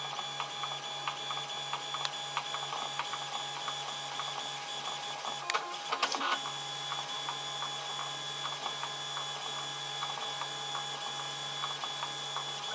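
A 3D printer lays down its next layers with the nozzle at 190 degrees and the bed at 50, giving a steady mechanical whir with rhythmic stepper ticks and a constant low hum, near and alone throughout.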